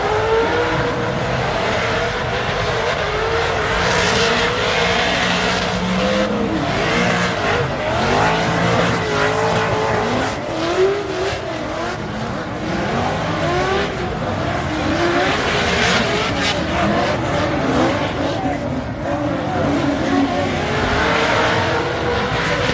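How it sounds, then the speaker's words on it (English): Two hot rod cars race side by side at an LS Fest East drag event, loud engine roar and revving sustained throughout with tire noise, no talk. "here's another pair of cars that we're running"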